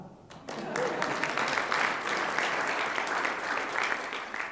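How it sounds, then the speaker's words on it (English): An audience at a media panel event breaks into applause, a dense, steady wash of many hands clapping after a brief quiet start, sustained to the end. "Clap."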